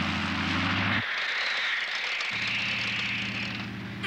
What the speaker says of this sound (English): And here comes the airplane.